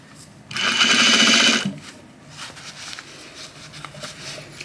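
A sewing machine stitches a cuff onto a jacket sleeve in one loud, close, steady burst of about a second, then stops, leaving quiet room noise and faint movement.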